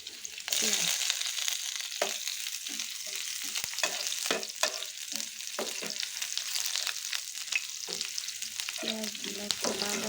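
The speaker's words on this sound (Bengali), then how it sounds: "পেঁয়াজগুলো একটু বাদামি করে নিতে হবে।" Onions fry in hot oil with chopped garlic in a pan for jute leaf greens, a constant close sizzle broken by repeated scraping stirs of a utensil across the pan throughout.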